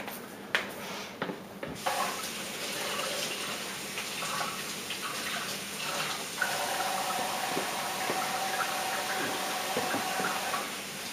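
Water runs steadily from a tap to wet a wooden carving, making a continuous close hiss and splash after a few brief knocks at the start, with no talk.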